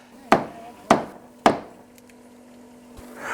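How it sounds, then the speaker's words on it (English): Hammer blows driving nails into wood during a DIY build, three sharp strikes about half a second apart, close and fairly loud, followed by a quiet stretch with a faint hum. "I have to hold on to it and hold the nails and hammer everything in"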